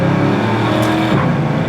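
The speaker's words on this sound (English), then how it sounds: "You get a nice tire squeal when you go into second gear there." A 1972 Chevy Nova revs hard and pulls away, its engine roar loud and close and climbing steadily through a gear change, with no one talking.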